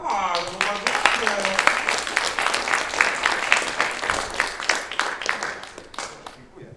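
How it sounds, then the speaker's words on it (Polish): A small audience at a Toastmasters club meeting bursts into dense applause, many hands clapping close together before it thins and fades toward the end, with a voice briefly heard at the start. "Brawa!"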